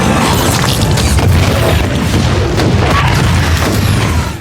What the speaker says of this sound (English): As the bomb exploded